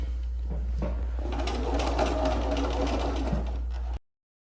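A sewing machine stitches a seam on a tulip quilt block, a steady close mechanical whir for about four seconds that then stops abruptly.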